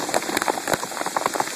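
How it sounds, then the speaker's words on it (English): Hail pelting down hard during an intensifying storm, a dense, continuous patter of sharp impacts close by with scattered louder hits against a car, no talking. "Hail just keeps intensifying."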